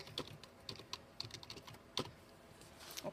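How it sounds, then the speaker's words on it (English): Quiet, irregular keystrokes tap on a computer keyboard as a name is typed in, with sharp clicks spaced unevenly and no speech. "You're going to type in whatever your name is."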